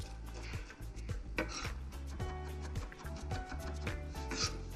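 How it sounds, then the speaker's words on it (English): A knife mincing garlic with salt on a cutting board makes a quick, close, irregular run of sharp taps and chops, with small clatters in between. "I'm looking for just the flavor of that garlic. But I do wanna mince it up."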